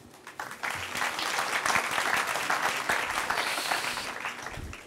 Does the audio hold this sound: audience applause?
yes